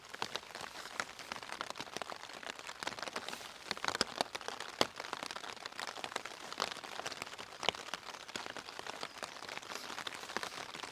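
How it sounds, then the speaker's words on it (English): Heavy rain drumming on a Fjallraven Abisko Lite tent at a wild camp in the Mourne mountains, a dense constant patter with sharper individual drop hits throughout, close and steady, without speech. "it's actually raining quite heavily."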